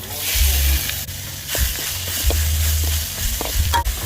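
Eel stir-frying in vegetable oil with roasted aromatics for a spicy Isan eel dish, a loud steady sizzle with scraping spatula strokes and occasional clanks against the pan.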